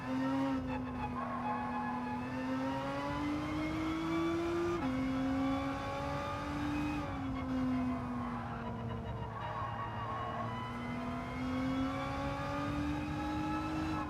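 A Nissan GTR race car in Gran Turismo 7 runs near and steady with a sustained engine whine. The pitch rises and falls through gear shifts, and a tire squeal comes in at moments.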